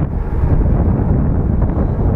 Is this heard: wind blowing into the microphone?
yes